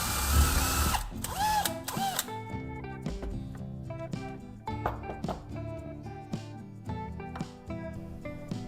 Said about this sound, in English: I'll use a hole saw to drill 2 small holes.